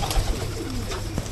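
Pigeons in a village loft in Singair, Manikganj, giving a short soft coo up close, low and throaty against a light background hiss.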